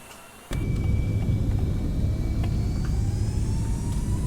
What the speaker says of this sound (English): I love hearing these engine sounds.